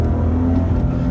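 The Ferrari-built engine of a Maserati Ghibli sedan revs loudly, a deep, dense rumble that holds steady and close throughout the brief moment.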